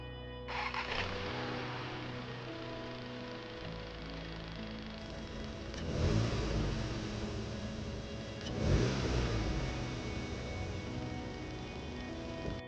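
An Audi S3 performance car with a freshly patched, coolant-topped cooling system drives along, its steady engine drone swelling with two acceleration surges midway and near the end, heard from inside with no talking.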